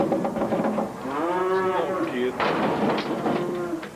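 Cattle on a drought-stricken ranch moo with a long, loud, drawn-out low call near the middle, over a background of other herd sounds and a speaking voice.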